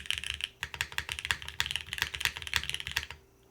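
Typing on a KBD8X MKIII mechanical keyboard fitted with gaskets and a CM plate, with rapid, steady keystrokes clacking close up for several seconds before a brief pause at the end.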